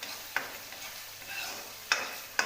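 Spice paste sizzles gently in oil for a mutton curry while a spoon stirs it, with a few sharp scrapes over a soft, quiet frying hiss.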